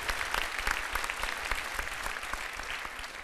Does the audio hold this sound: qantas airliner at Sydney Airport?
no